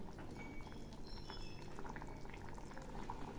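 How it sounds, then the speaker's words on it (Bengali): Cauliflower korma bubbling in a pan on the stove, a steady soft simmering hiss and gentle popping that carries on evenly throughout, close by and fairly quiet, with no talking. "এগুলি আরও কিছুক্ষণ ফুটবে, একদম মাখা মাখা হয়ে যাবে।"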